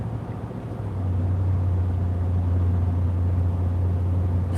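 Steady, loud low-frequency rumble fills a car's interior while driving, with a constant engine and road drone and no talking.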